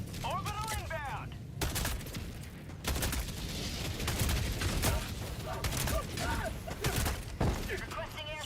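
An orbital strike in Helldivers 2 on the hardest difficulty, heavy booming impacts and crackling blasts amid dense gunfire bursts, loud and close, with players shouting over the chaos.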